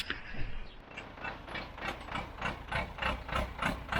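A sprayer engine idles with a loping rhythm, its uneven mechanical pulses repeating steadily and fairly quietly, with no voices over it.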